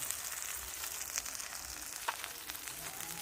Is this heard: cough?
no